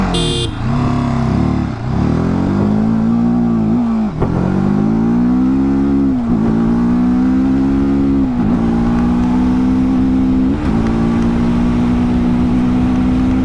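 A TVS Apache RTR 310 motorcycle accelerates hard in an acceleration test, its loud engine rising in pitch through several gears with clear dips at each upshift, close and continuous.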